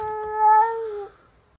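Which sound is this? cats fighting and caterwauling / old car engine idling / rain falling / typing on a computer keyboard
cats fighting and caterwauling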